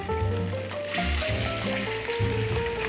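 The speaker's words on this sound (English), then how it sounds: "You always want to start with meat down to get a good sear. As you hear, get a good sear as you hear." Salmon sears meat-side down in a pan over medium-high heat, sizzling loudly and steadily up close while the fat crackles without a break. No one speaks.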